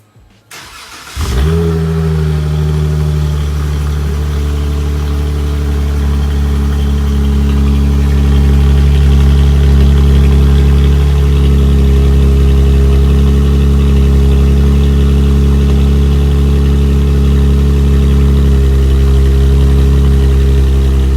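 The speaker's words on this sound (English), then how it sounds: "I might as well give you guys a good little cold start as the car hasn't started in 2 days." A 2017 Dodge Challenger SXT Plus with a Solo Performance exhaust cold-starts after sitting two days, cranking briefly then catching into a loud, deep, steady idle that rises slightly and holds, close-up with no talk.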